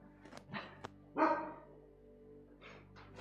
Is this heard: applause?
no